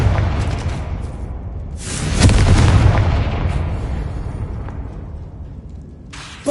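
A Confringo spell explosion in Hogwarts Legacy on PS5, a loud, close booming blast that rises around two seconds in and rumbles on heavily before tailing off, with another sharp burst at the very end.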